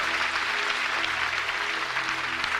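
Church congregation applauding and cheering the name of Jesus, steady full clapping from many hands filling the room without pause, with a faint voice and some sustained tones underneath.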